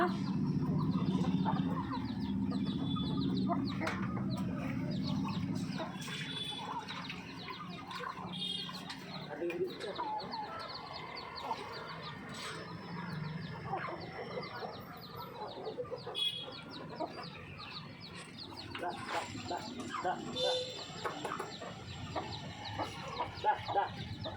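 A hen clucks softly and steadily while teaching her chicks to eat, with low, repeated clucks near at hand over a quiet outdoor background and scattered small peeps and rustles.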